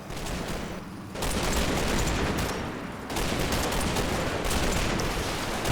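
Dense, continuous gunfire from a woodland battle in the Combat Mission war game, loud overlapping rifle and machine-gun bursts with a brief dip before the firing swells again.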